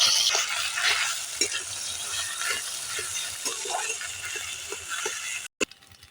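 Boiled potatoes drop into hot oil in a kadai with dried red chillies and five-spice seeds, giving a bright, steady sizzle with light stirring scrapes and clinks, then a brief cutoff and a short clatter at the end.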